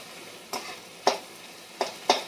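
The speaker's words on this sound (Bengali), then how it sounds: "একটু নেড়ে দিই, একটু ভাজা হোক" Onion, green chilli and garlic fry in a pan while a spatula stirs them in four distinct scraping strokes over a soft, steady sizzle nearby.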